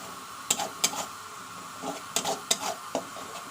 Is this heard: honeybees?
no